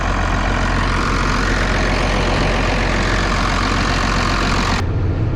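A blue farm tractor engine idles loud and close, a steady low rumble that barely changes, with a short cut in the upper range near the end.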